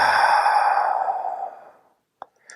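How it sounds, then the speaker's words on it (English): A long, steady breath is pushed out through the mouth, fading gradually over about two seconds, followed by a couple of faint clicks in near silence. "Big inhale through your nose, exhale out your mouth."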